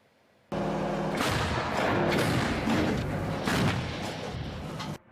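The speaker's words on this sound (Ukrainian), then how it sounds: "Потужний звук пострілу це роботи М109Л, самохідної артилерійської установки." An M109 self-propelled howitzer fires a powerful blast suddenly, followed by a rolling, rumbling boom and echoes that sustain for several seconds before cutting off.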